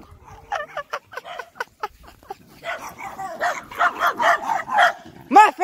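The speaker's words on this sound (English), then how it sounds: "There goes the dog." A hound barks repeatedly outdoors during a walk, sharp yips and barks in an irregular series, growing louder and denser toward the end, with faint background voices.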